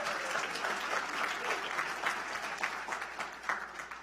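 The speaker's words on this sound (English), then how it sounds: "She packed the room to get applause." An audience gives a round of applause at a government briefing on a recommended operating budget: steady, dense clapping from a packed room, fairly loud and sustained with no voices over it.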